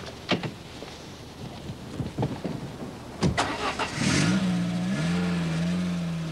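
A Citroen ZX hatchback from 1991 starts off after a few door and handling knocks, its engine rising into a steady rev that drones on, moderately loud and close, with no talking.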